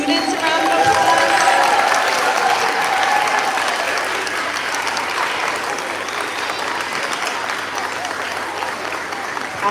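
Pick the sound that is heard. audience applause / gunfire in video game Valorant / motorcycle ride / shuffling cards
audience applause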